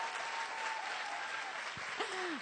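Sustained applause from a brunch audience, continuous dense clapping with a few whoops or cheers rising briefly above it near the end.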